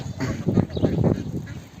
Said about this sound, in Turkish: Ördek ve gazlar. Buraya doldular.